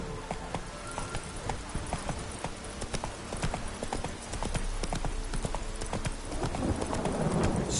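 Hooves of the horse Roach clip-clop steadily on the ground in The Witcher 3, a quick regular rhythm of sharp thuds under ambient game sound that swells toward the end.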